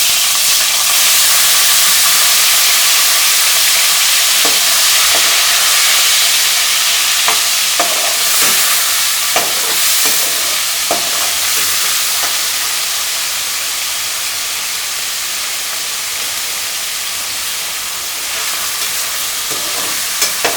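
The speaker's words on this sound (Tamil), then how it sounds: "இப்போ அதில் வந்து இந்த வஞ்சரம் கருவாடை வறுத்து வந்து எடுத்து வச்சுக்க போகிறாங்க." Vanjaram dried fish fries in about five spoons of hot oil, giving a loud, steady sizzle and hiss with occasional light stirring clicks throughout.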